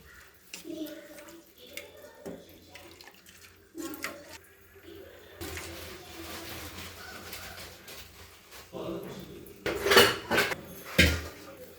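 A spoon stirring spiced mackerel curry masala in a metal pan, giving intermittent scraping and clanking that is loudest near the end, with pigeons cooing faintly in the background and a voice talking at moments.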